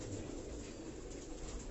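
Pigeons coo low and steady on a Karachi rooftop under a broad hiss of outdoor noise.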